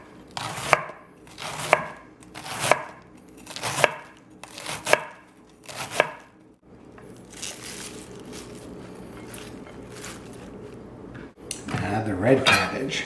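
Knife thinly slicing cabbage on a cutting board, six evenly spaced crisp chops, then quieter shuffling and a final cluster of clattering cuts, close and clear with no talking.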